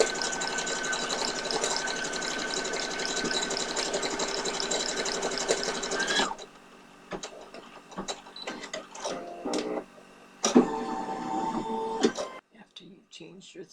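An embroidery machine stitching a design hums and rattles steadily for about six seconds, then stops, leaving sporadic clicks, knocks and short mechanical bursts.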